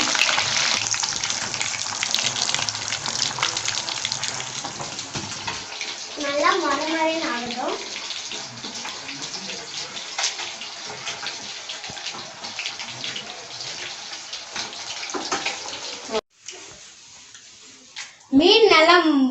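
Fish sizzles and crackles in hot oil with a steady, loud frying hiss. A person talks over it, and near the end the sizzle briefly drops away before returning.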